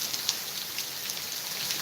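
Heavy rain pours steadily during Hurricane Ian, a dense continuous hiss with a few sharper drop impacts, close and fairly loud with no talking.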